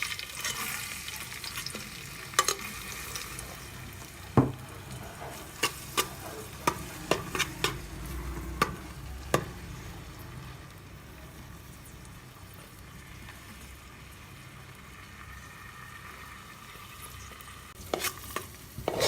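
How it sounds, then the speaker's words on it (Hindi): Chopped onion softening in ghee for chicken macaroni, a gentle sizzle with a run of quick spoon scrapes and taps near the start. Steady low frying fills the rest, with no talking. "बस हल्का सा सिर्फ हमें इसको घी में नरम करना है"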